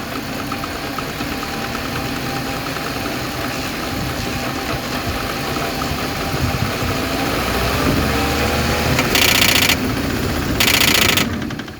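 A car engine accelerating hard from standstill toward 100 in a vehicle with a shaking problem, a steady mid-pitched engine drone that rises and strains over about twelve seconds, with some knocking texture and brief bursts of broadband noise near the end.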